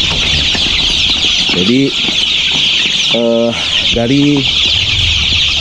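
KUB chickens on an Indonesian farm give several short, loud clucks and squawks close by over a steady hissing background, and someone speaks briefly.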